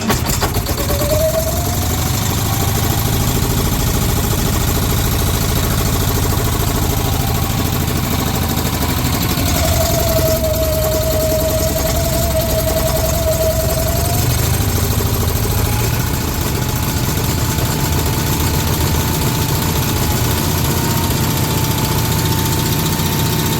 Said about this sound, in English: Now, lo and behold, let's start this thing up.